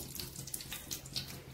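Three tablespoons of coconut oil pour into a pan for a chicken chukka, a brief close trickle with uneven splashy bursts.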